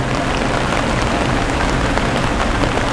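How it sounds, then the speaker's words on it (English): Artificial rain falling inside the Biosphere 2 research facility, a steady dense hiss of water spraying and pattering over vegetation that stays loud and even for the whole stretch, with no voices. "Energy Center, can we please make it rain in the northeast quadrant?"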